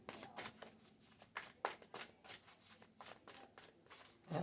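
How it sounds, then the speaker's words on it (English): A deck of tarot cards is shuffled by hand close up, with rapid rhythmic riffling bursts repeating about twice a second, soft and alone. "It's a whole lot of shuffling."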